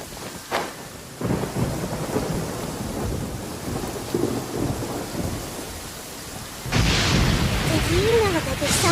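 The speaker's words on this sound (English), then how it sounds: "Did you know that the sound of thunder is the prelude to new life?" A thunderstorm in Genshin Impact rolls through heavy rain, with deep rumbling thunder swelling and a loud crack near the end, steady rainfall throughout and a voice speaking beneath.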